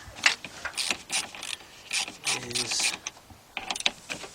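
A quarter-inch drive ratchet turning an 11mm socket on a Ford F-250 Super Duty pickup, rapid bursts of close metallic clicking in short runs, with a brief spoken word in between.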